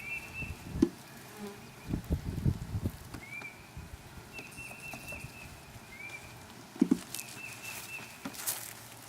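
A low, steady buzz of about 10,000 bees being moved into a hive with combs, passing drones rising and falling, mixed with occasional soft knocks and thumps nearby.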